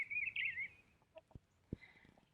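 A broody hen gives a few short agitated clucks and a high squawk, close and fairly quiet, with some light knocks in between and no talking.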